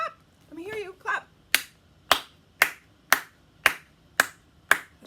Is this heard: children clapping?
yes